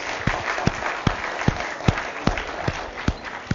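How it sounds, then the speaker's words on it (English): A lecture audience claps for a birthday, a moderate, steady patter of many hands with a regular, rhythmic beat of sharper claps running through it. "we can all clap and wish Sana a happy birthday"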